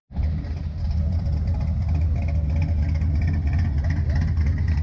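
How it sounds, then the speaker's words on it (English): A car engine rumbles through aftermarket exhaust cans during a Mustang cruise event in Ocean City, a loud, deep, continuous burble starting abruptly and holding steady close by. "Love the sound of those cans."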